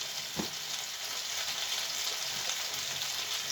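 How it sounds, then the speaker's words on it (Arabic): Potatoes frying in a pan with oil, salt and black pepper as eggs are being prepared, a steady close hiss and sizzle, with one faint scrape of stirring near the start. "وهنفضل نقلب فيها لحد ما البطاطس تحمر."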